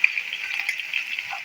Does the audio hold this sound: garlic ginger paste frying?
yes